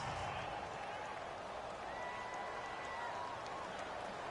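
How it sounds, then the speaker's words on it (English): Home stadium crowd in a Madden NFL video game Super Bowl matchup between the Atlanta Falcons and Pittsburgh Steelers, a low, steady wash of applause and cheering heard faintly at a distance, sustained without breaks. "This home crowd, they're happy with that call."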